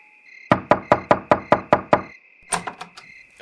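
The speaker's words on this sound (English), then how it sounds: "Is that someone knocking on the door?" Eight sharp, evenly spaced knocks on a door, loud and close, followed by a few scattered thumps and rattles, with a steady tone running underneath.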